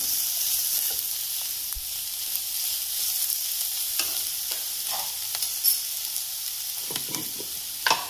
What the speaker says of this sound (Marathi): आता छान हे मोठ्या फ्लेमवर छान परतून घेऊया.